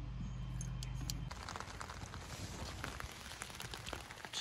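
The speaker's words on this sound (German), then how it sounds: "Jetzt hat uns doch glatt der Regen ein bisschen erwischt." Rain from a sudden thundercloud patters steadily on surfaces at a bicycle-caravan meetup, a dense even hiss of drops with scattered sharper taps, fairly faint, after a low rumbling hum fades out early on.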